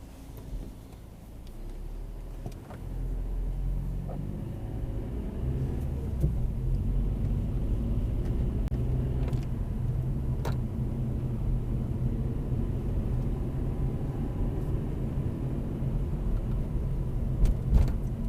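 A car pulls away on a driving test route in Northampton, its engine rumbling steadily from inside the cabin as it gathers speed, with no one talking.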